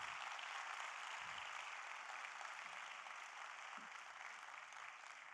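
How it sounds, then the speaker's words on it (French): Faint, even applause from an audience at a university event, a steady wash of clapping heard from a distance with no talk over it. "On peut les applaudir, ouais."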